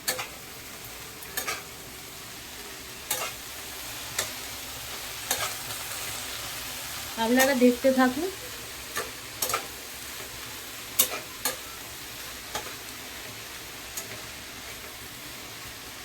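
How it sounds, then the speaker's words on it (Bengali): Chopped beetroot, carrot, broccoli, pointed gourd, beans, onion stalks, onion, green chili and tomato with butter frying in a pan make a quiet sizzle, broken by sharp clicks and scrapes of stirring. "এরপর আমি ভাজা শুরু করব।"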